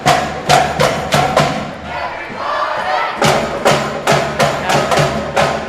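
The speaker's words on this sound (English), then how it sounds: "You can see the crowd really getting into it, cheering them on" Spectators at a high school basketball game roar and cheer, driven by a loud, rhythmic run of thumping beats like stomping or clapping that pauses briefly, then resumes in a steady pulse.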